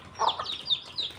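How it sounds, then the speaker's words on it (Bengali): Domestic chickens clucking close by as the flock of hens and ducks runs toward their keeper for food, several short bright calls overlapping in quick succession. "দেখছেন আমার হাঁস মুরগি আমাকে দেখে দৌড়ে আসতেছে।"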